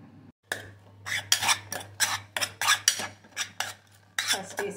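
A spoon mixes gongura walnut chutney ingredients with chillies, cumin and sesame seeds in a pan, producing a rhythmic run of about a dozen bright metallic clinks and scrapes, close and crisp with short gaps between strokes.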